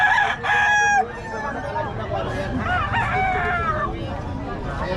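Roosters at a gamecock market crow in several overlapping calls, one loud and near at the start and others farther off, over a murmur of crowd noise and voices.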